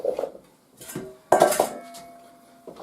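Chunks of swede and celeriac dropped into a cooking pot give a few short, close clunks and knocks on the metal. A brief ringing clink follows, with quiet gaps between them.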